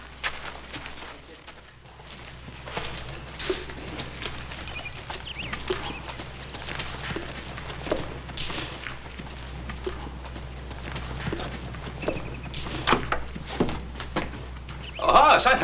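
A horse's hooves clip-clop in a classic Western television scene: faint, irregular hoof knocks sound at a distance over quiet background ambience.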